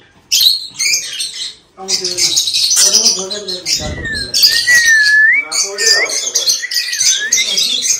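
Lovebirds at a bird farm squawk and chirp loudly and up close, with dense overlapping calls, harsh chatters and a rising whistled note, nearly continuous after a brief opening pause.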